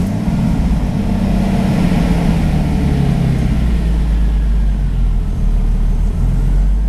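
From inside a BMW E46 328i turbo with an open window and a 2.0 exhaust line, the engine holds a steady, loud, low droning idle with a constant throaty rumble throughout.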